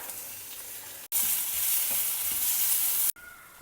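Ripe medium tomatoes with salt sizzle and sauté in a hot pan, a steady close frying hiss that swells louder for a couple of seconds as they are stirred, with no talking.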